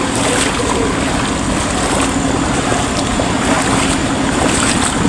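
Steady rushing of floodwater covering a road that people are wading through, a constant broadband wash, with wind noise buffeting the microphone throughout.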